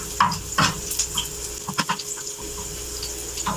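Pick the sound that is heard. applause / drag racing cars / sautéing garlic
sautéing garlic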